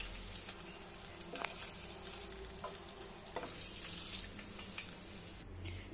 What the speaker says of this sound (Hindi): तो इन चिकन को हम लोग और अच्छे से भून लेंगे।